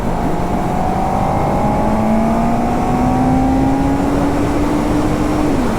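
A Honda CB1000R motorcycle engine pulls hard under acceleration, its loud, close drone rising steadily in pitch through the gear, then dropping at a shift before climbing again, all over strong wind rush.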